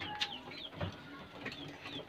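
Soft pigeon calls with faint cooing and chirps at low volume, a few brief notes scattered over a quiet background.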